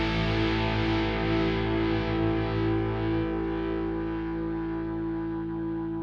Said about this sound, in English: A little bit of rotary reverb on that as well, I like the oscillation there.